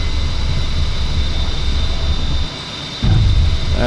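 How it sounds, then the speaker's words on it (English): An airplane's engines roar steadily as it speeds down the runway for takeoff, a loud continuous drone that dips briefly before surging back. "As the speed increases, the aircraft's starting to bob, which means it's trying to get airborne."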